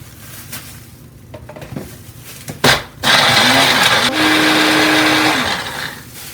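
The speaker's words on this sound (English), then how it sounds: "So I'm simply going to blend this." A blender grinding dried shrimp shells starts after a couple of clacks and runs loudly, grinding with a rising whine that steadies, then eases toward the end.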